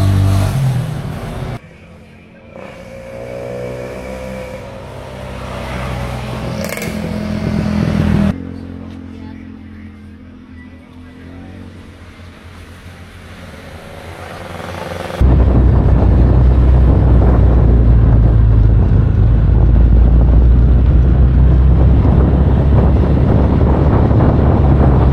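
Motorcycle on a solo touring ride through rural roads, engine drone and road noise shifting between quieter stretches and a sudden loud wind-buffeted roar in the last ten seconds.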